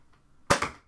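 A Nerf Rival Edge Jupiter blaster fires once, a sharp close snap followed by a quick second thud as the round strikes, short and punchy against near silence.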